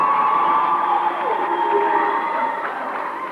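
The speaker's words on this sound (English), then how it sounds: "The home team crowd is getting into this ball game." Home team crowd roaring steadily at a 1993 regional high school basketball tournament game, Hoonah versus Kake, a loud continuous wash of cheering and voices for the whole stretch.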